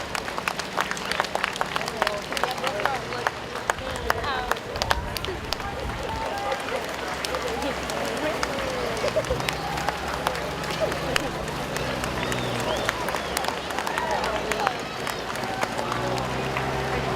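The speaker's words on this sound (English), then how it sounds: "Please clap if you can and thank them." Audience at a small-town Pioneer Days parade applauding military veterans, a sustained crackle of scattered clapping from an outdoor crowd mixed with talk and a passing public-address voice.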